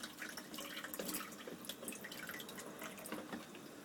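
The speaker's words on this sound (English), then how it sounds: "This is nicely dripping away." Water drips and trickles steadily while a baby fish tank is being cleaned, a busy patter of small drops close by with no voices.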